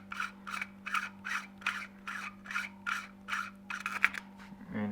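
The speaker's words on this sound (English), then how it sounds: "Now we can take the prism and then remove the universal clamp itself" Rhythmic scraping rasps, about ten evenly spaced strokes, as a universal clamp is worked off a camera prism on an Eaglevisioncam two-bar rig, over a steady low hum.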